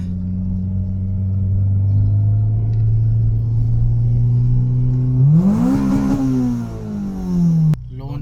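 A Honda EK car revs up, its engine note climbing steadily before a sharp rise as it accelerates hard, loud and close, then cutting off abruptly near the end.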